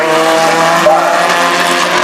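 Vintage race cars at the Mid-Ohio Sports Car Course Vintage Grand Prix roar past loudly, their engine notes rising and sliding in pitch as they pass close by, with no talk.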